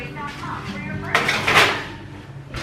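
A cookie sheet of keto butter pecan cookies slid into the oven, with metallic clatter and a scraping rattle of the tray on the rack, close by, with talking over it.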